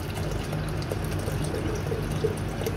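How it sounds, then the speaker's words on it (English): Milk is poured into a pot of cooked wheat, giving a steady, continuous liquid splash and gurgle at close range, with no talking. "I will add now the milk."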